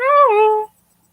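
A house cat gives a single clear, close meow that rises and then falls, lasts about two-thirds of a second, and is followed by silence.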